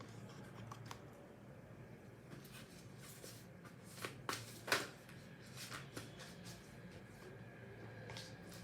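Tarot cards are shuffled by hand during a reading, soft riffling and flicking close by, with a few crisper snaps among quiet, irregular card handling.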